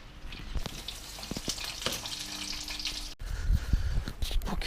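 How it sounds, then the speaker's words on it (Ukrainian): Cutlets and chops sizzling and frying in a pan, a steady crackling hiss with occasional utensil clinks and stirring, close by, growing louder toward the end. "Тут у нас ще готуються відбивні. Котлетки майже готові."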